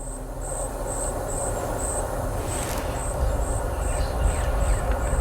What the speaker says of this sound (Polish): Na przykład chcę mieć odgłos lasu.